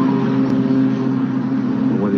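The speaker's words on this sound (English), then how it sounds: "There's a plane because we have an airport here" Airplane flying near an airport, a steady droning engine hum with a constant tonal whine that holds loud and even throughout, without speech.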